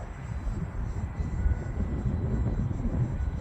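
A Freewing MiG-15 radio-control jet with a 64mm electric ducted fan flies in strong wind, a steady, whooshing drone with heavy low rumble that persists throughout at moderate distance.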